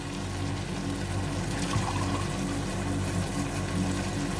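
Water is poured from a glass into a pot of rice and boiled chickpeas for a pulao, a steady gushing pour heard close and fairly loud over a low background rumble, with no talk.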